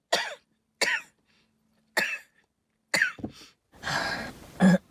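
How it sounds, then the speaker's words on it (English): An adult coughs repeatedly in a cold-weather setting: four separate harsh coughs a second apart, then a longer rougher burst of coughing and throat clearing, close and fairly loud with no talk. "so I cough again"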